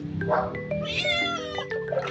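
A cat meows repeatedly in drawn-out, wavering cries, close and fairly loud, with faint background voices.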